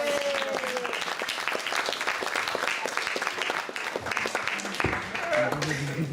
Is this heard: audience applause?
yes